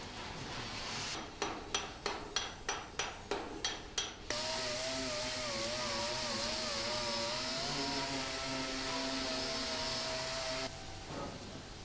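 Orbital sander works a Triumph Spitfire Mk IV or GT6 bonnet panel, a steady droning whine after a quick series of sharp rhythmic knocks, close and fairly loud before cutting off.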